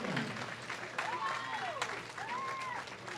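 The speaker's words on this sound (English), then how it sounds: "let's give these finalists another round of applause as they begin their double elimination match play competition" Spectators at a junior bowling championship clap for the match-play finalists, the applause moderate and mixed with voices and crowd murmur in a large hall.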